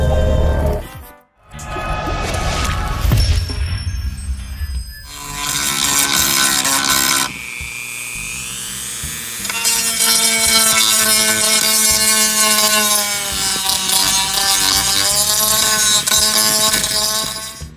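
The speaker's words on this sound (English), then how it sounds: "I'm going to put something that's going to basically sand that down, not go all the way through" A rotary tool bit whines and buzzes as it grinds out a crack in a snowboard, the pitch shifting and wavering as it bears down and eases off, close and loud, with brief pauses early on.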